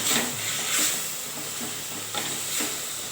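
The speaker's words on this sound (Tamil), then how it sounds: "அடுத்து வெங்காயம் ஆனியன் போட்டுக்கலாம் இது ஒரு வதக்கு நல்லா வதக்கிக்கலாம்" Chopped onions sautéing in a hot pan, a steady close hiss of frying with a few brief stirring scrapes and no voices.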